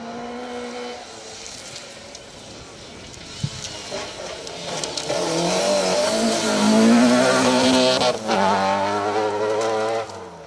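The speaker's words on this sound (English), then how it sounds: "It's the glorious sounding Opel Corsa of Ben Cree and Bob Wiggins" An Opel Corsa rally car on a stage of the Trackrod Rally, its engine rising and revving as it approaches and passes fairly close, with a strong pitch climb midway and a loud, sustained drive.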